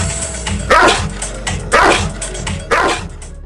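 A Cane Corso barks three times in deep, loud, evenly spaced woofs about a second apart, each ringing briefly over a steady low background hum.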